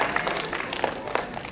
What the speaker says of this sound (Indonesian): Ada Kak Dion Wiyoko, tepuk tangan dong.